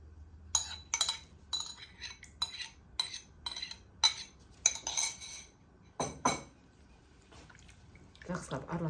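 A spoon clinks against a bowl while eggs and melted butter are stirred, about eight sharp, evenly spaced taps close by, then a brief voice at the end.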